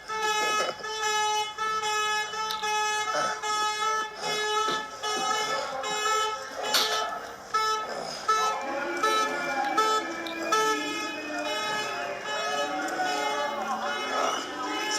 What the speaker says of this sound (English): That's the neighbors protesting in their own way, the protesters, by turning on their alarms on their cars.